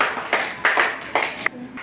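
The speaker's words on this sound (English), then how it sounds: "Very good, claps." Children clap in a classroom in short bursts, several separate rounds of applause within a couple of seconds, close and fairly loud.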